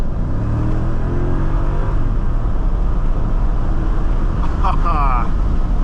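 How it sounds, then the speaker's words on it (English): The V8 of a 2003 Mercedes-Benz CL500 accelerating, heard from inside the cabin as a loud, continuous low rumble whose pitch climbs at first and then holds steady. "That V8 rumble."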